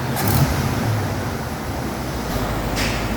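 A 1986 Mustang with a swapped 302 V8 running on a dyno, a loud steady engine roar that holds an even level throughout with no talk.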